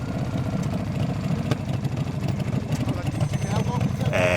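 Motorbike cruising into town: a steady, rumbling engine drone with a pulsing low throb throughout, close and fairly loud, with wind noise over it.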